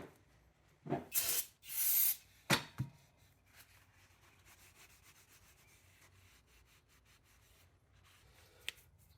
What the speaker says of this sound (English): I'm going to give both surfaces another wipe down with some brake cleaner.